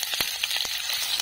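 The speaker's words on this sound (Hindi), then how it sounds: "इसमें प्याज का तड़का लगा देती हूँ" Onions sizzle and crackle steadily in hot oil after bay leaves, a dense, even frying hiss with small pops throughout.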